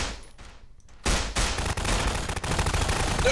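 Rapid gunfire bursts in the video game Estranged, a Half-Life 2 mod, start abruptly after a quieter opening and continue as dense, loud, overlapping shots and volleys until the end.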